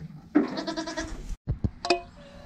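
A single dairy goat bleats loudly and close, one long wavering call followed by shorter bursts and a second brief bleat, in a quiet farmyard setting.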